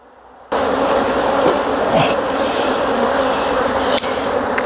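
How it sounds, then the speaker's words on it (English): A dense, steady hum of many honeybees buzzing close up in an open hive of a strong split, continuous and loud, with a brief knock or click partway through. "Lots of bees in here."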